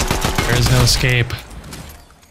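A rapid cluster of gunshots crackles through a Fortnite match, loud and close, while someone talks over the shooting.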